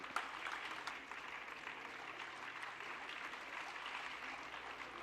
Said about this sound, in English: A big round of applause, please, for Ankita